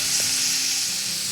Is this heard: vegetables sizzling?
yes